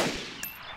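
A single sharp gunshot in the survival video game DayZ, loud and close, cracking out at once and decaying quickly, with no talk over it.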